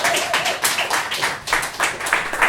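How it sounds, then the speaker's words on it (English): An open-mic audience gives a spirited round of applause after a poetry reading, steady dense clapping filling the room without pause. "a massive round of applause for Ron!"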